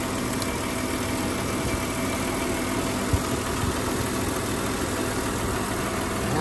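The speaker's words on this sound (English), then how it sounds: "so ticking over" A Mercedes CLK that sat unused for five years idles steadily, a constant low mechanical hum with a faint even vibration and a single small knock partway through, with no voices.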